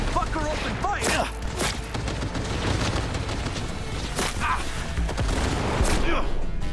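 Repeated gunfire bursts and booms from the Cyberpunk video game crackle loudly in rapid volleys over a dense, continuous backdrop of game noise.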